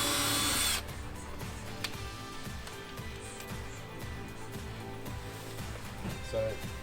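A power drill whirs steadily in short repeated bursts, close by, drilling holes in a 2022 Sprinter 170-inch van, with a brief louder start and no talking.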